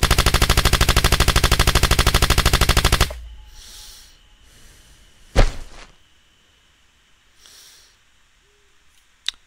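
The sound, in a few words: gunshots from a video game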